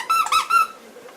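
A squeaky dog toy squeaks in a quick series of three or four sharp, close squeals over about a second, offered to a blue French Bulldog puppy, then fades to quiet.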